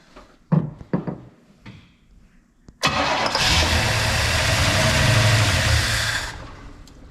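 A few clicks and knocks come first, then a 1966 Pontiac Catalina that sat parked for 20 years cranks and fires up loudly. It settles into a steady, rumbling idle before fading near the end.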